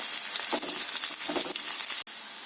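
Pirandai (adamant creeper) and ginger frying in a pan, a steady broadband sizzle with soft stirring scrapes throughout and a brief sharp click near the end.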